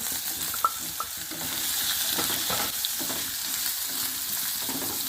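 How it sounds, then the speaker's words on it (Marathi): Fenugreek seeds fry in hot oil for a sweet-and-spicy raw mango curry, a steady close sizzle running throughout with a few small crackles and pops near the start, and no voices. "मेथी दाणे फार करपू द्यायचे नाही एक दोन सेकंद आपल्याला हे भाजून घ्यायचे आहे"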